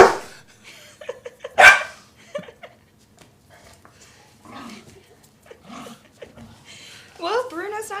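Two dogs trade barks at each other indoors, sharp separate barks spread out with pauses between them, plus a whining yelp near the end. Faint talk runs underneath.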